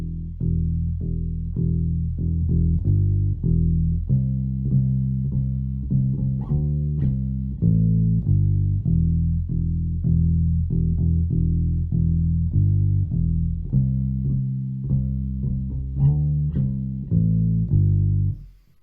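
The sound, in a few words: bass guitar playing a quiet solo pattern slowly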